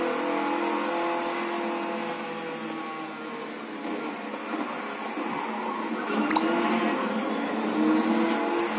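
Car engine revving during a race in The Crew 2 video game, a steady droning engine note with shifting pitch and occasional clicks, moderately loud and without talk.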